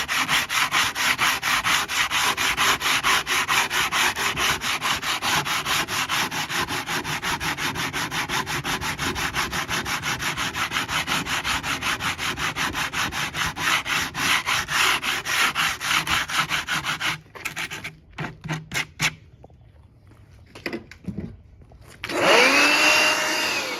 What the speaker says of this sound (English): So what I do, I get my little sanding block